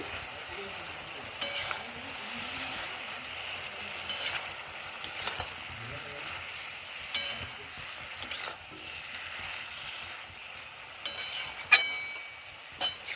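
Vegetables with ginger fry dry in a pan, a soft continuous sizzle broken by repeated scraping and stirring clatters at irregular intervals, close and fairly quiet, no speech.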